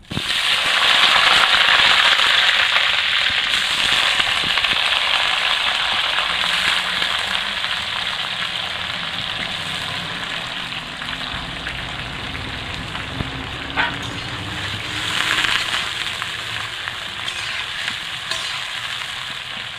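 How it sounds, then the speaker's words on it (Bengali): Hot oil fries vigorously in a pan, a dense crackling sizzle that stays close and steady throughout with a few light stirring scrapes and no speech. "তেলটা গরম হয়ে গেছে, আমি করে একটু ভেজে নেব"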